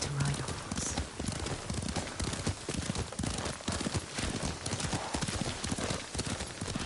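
Horse hooves clatter in a quick, rhythmic gallop in the video game Ghost of Tsushima, close and steady throughout, with a muffled bustle beneath.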